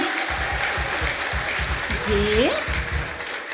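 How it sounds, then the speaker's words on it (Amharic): A church congregation applauds, producing a steady wash of many hands clapping under the sound, with a voice speaking over it and a rising vocal exclamation near the middle. "አጨብጭቡ እንጂ"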